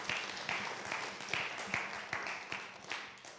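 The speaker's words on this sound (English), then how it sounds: "Let's give the best clap offering for God for this morning." A church congregation claps at a Sunday service, a somewhat distant, rhythmic round of applause with steady beats roughly twice a second.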